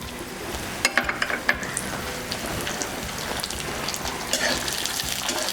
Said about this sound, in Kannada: ಈಗ ಕಡಲೆಕಾಯಿ ಬೀಜ ಬ್ರೌನ್ ಆಗೋವರೆಗೂ ಹುರಿಬೇಕು.